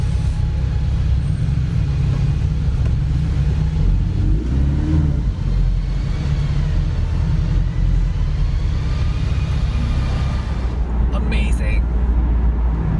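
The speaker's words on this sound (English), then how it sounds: "They've done an amazing job with the exhaust system in this car." The four-cylinder engine of a Porsche 718 Boxster S sports car drones with a low, throaty exhaust rumble, steady and close, while someone talks over it.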